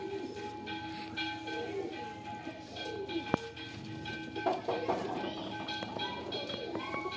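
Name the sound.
pigeons in a loft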